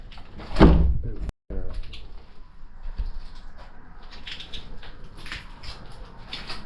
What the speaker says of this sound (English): Let's close that door because it was closed before